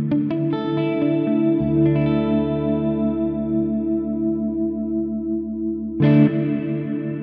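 A Flamma FX20 delay and reverb effects pedal shapes sustained instrument notes into a thick wash of echoes and reverb tails, with a fresh attack near the end swelling into the lingering ambience; no one speaks.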